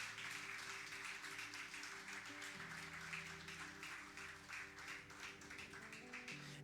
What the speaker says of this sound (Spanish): Dale un aplauso al Señor si lo crees.